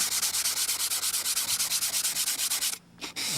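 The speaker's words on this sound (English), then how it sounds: "sand the whole panel by hand, and that just finalizes the sand out" A wing panel from a Windy U Master 880 is hand sanded with fast, rhythmic back-and-forth rasping strokes, close and loud, about eight strokes per second, ending in a brief pause and a final scrape; no talking.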